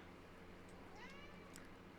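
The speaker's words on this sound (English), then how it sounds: "now that's my cat in the background" A pet cat meows once, short and faint, somewhere in the background of a quiet room with a low steady hum.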